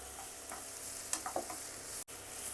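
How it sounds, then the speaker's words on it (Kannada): Onions and green chillies fry quietly in hot oil for a chicken liver fry, a faint, even sizzle with a few soft stirring taps and one brief dropout near the end. "so onion fry ಆಗ್ತಿದ್ದಂಗೆ green chillies ಹಾಕೋತಾ ಇದ್ದೀನಿ"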